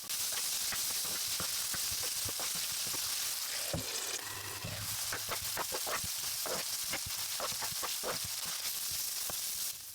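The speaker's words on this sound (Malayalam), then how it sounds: "മൂന്ന് ടേബിൾ സ്പൂൺ സൺഫ്ലവർ ഓയിൽ ഒഴിച്ച് പട്ട ഏലയ്ക്ക ഗ്രാമ്പൂ സവാള എന്നിവയിട്ട് വഴറ്റിയെടുക്കാം" Onions frying with cinnamon, cardamom and cloves in sunflower oil for a creamy mushroom masala, a steady close sizzle with scattered crackles and the scrape of stirring running throughout.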